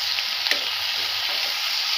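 Tomatoes frying in a pan for homemade pizza sauce, a steady, close, continuous sizzle with faint crackles and no talking.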